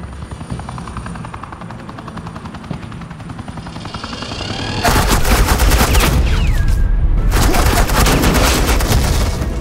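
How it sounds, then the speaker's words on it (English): Heavy rapid gunfire erupts halfway through over a constant helicopter rotor drone in a Far Cry 5 battle, loud dense bursts layered with booms, with no talking. "suppressing fire"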